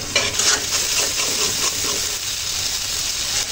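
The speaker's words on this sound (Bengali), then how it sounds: "মশলাগুলো ভালো করে কষে নেব।" Spices being stir-fried and stirred in a pan for a fish curry with tomato, potato and peas, giving a steady, loud sizzle with scraping stirs throughout and no talking.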